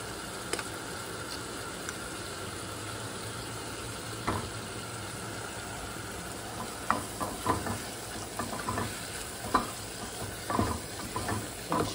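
Tomatoes and tomato paste frying in a pan while being stirred, a steady soft sizzle with scattered scraping clicks of the spoon, close and without talk.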